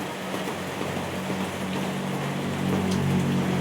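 Rain falling steadily on surfaces outdoors, a dense continuous patter that holds level and swells slightly toward the end, with no voices.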